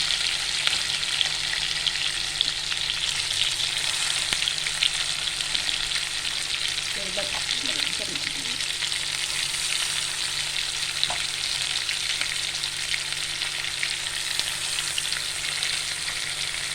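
Potato pieces fry in a hot pan alongside stuffed brinjals on a full gas flame, giving a steady, dense sizzle with a faint stir partway through and no voices.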